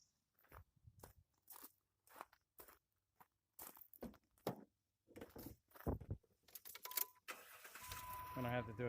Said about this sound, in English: get my truck started up before I connect this